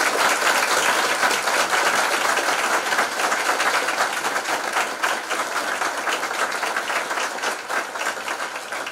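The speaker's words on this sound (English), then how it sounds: "I'm sure from the applause you can understand that everyone enjoyed your lecture this morning" Steady audience applause after a lecture on evidence of God, a dense sustained wash of many hands clapping that fades slightly over several seconds, heard alone without talk.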